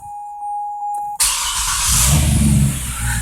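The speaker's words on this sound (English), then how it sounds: "Put your foot on the brake and push the start." A 2013 Corvette Grand Sport with quad exhaust starting up after a quiet electronic chime: a sharp crank and catch, then a loud, steady V8 rumble settling into idle close by.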